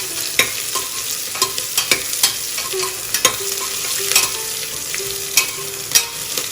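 A small onion fries in a pan with a continuous sizzle, broken by frequent sharp clicks and scrapes of stirring against the pan, close and fairly loud.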